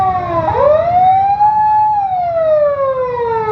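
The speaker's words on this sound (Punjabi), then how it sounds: "ਇਹ ਦੇਖੋ ਦੋ ਐਂਬੂਲੈਂਸਾਂ ਫਸੀਆਂ ਨੇ, ਰਸਤਾ ਕਿਸੇ ਨੂੰ ਨਹੀਂ ਮਿਲ ਰਿਹਾ।" A loud, close ambulance siren wails, sliding upward and then falling in a long sweep, while it sits stuck in traffic on a road in Lahore blocked off with containers.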